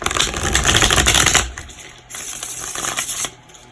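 Oracle cards are shuffled close up, a dense riffling and flicking that runs steadily, pauses briefly, then picks up again, with no talking over it.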